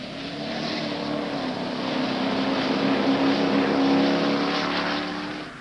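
Big Ford Falcon racing cars run nose to tail on a race track, their engine roar swelling as they approach and fading as they pass, with no commentary over it.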